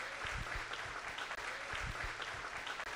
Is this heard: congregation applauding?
yes